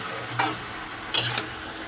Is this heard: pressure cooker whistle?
no